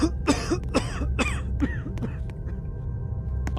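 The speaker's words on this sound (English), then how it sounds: "This dude's just gonna cough in there." In the Roblox horror game The Apartment, a character coughs a few muffled times in quick succession, then clears his throat, slightly distant from behind a door.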